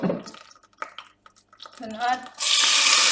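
Onion dropped into hot olive oil in a pan, bursting into a loud, steady sizzle in the final second after someone talks briefly.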